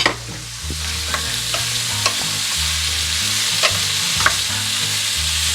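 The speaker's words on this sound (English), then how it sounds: "I'm gonna go ahead and throw in the sausage because the sausage has already been cooked." Already-cooked sausage lands in a hot pan and fries with a steady, loud sizzle, while a spatula scrapes and taps now and then over a low steady hum.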